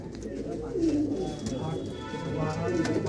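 Pigeons coo in soft, repeated low murmurs close by in a loft setting, the rolling calls overlapping under a steady ambient hum.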